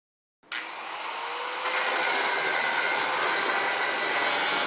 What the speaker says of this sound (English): I'm going to use the cutting blade to cut some of this line out